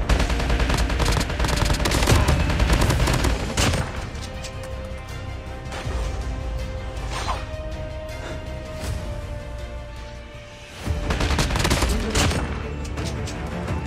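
Gunfire in the mobile shooter Call of Duty Mobile: rapid bursts of automatic shots and sharp single cracks, loud and dense, with brief pauses between volleys and heavy firing again at the end.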